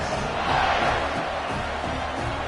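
Football stadium crowd in Michigan, a broad, continuous roar of many voices from a distance with a brief swell of cheering, and no clear single voice standing out.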